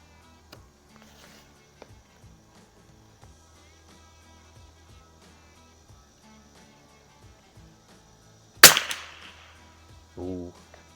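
A single sharp rifle sighter shot from a Savage MKII at the range cracks out loudly, followed by a shorter, fainter sound a moment later, over quiet background ticks.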